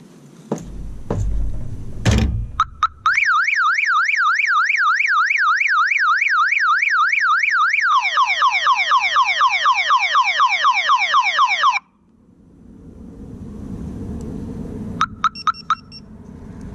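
A Viper car alarm siren fitted to a truck blares loudly and alone, cycling through rapid rising-and-falling wails before shifting to a faster chirping pattern, then cutting off, with a few door thumps and clicks around it.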